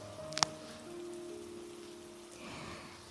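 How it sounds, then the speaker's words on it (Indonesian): Rain falling outside, a faint steady patter heard alone at low level, with a brief sharp click early on and soft sustained tones in the background. "Di luar sana hujan masih turun."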